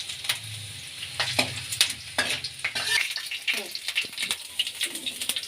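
Ginger and garlic frying in hot cooking oil in a pan, a close crackling sizzle with repeated scraping stirs and light metal clinks in an irregular rhythm.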